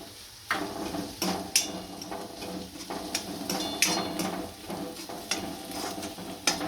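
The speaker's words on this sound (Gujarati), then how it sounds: "આમાં આદુ લસણની પેસ્ટ નાખીશું. અને શેરવી નાખીશું." Ginger-garlic paste being stirred into half-cooked onions in a pan for sev usal, a steady sizzle with intermittent sharp scrapes and clinks of the spoon against the metal pan.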